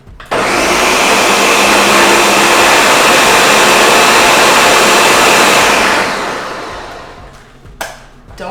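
A blender or food processor whirs loudly and steadily while blending vegan egg salad, then winds down, followed by a brief clatter.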